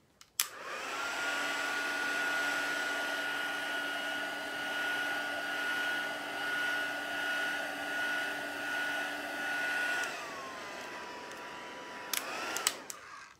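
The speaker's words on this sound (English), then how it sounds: "So I'll give it another quick blast with the heat tool." A crafting heat tool blows steadily to dry a handmade card, a loud continuous whining fan hum that holds for about ten seconds, then dips in pitch and clicks off.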